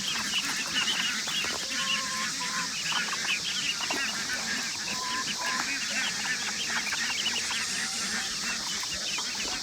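Ducks quack and chatter continuously while being herded on a farm, a busy flock of overlapping calls over steady outdoor background noise.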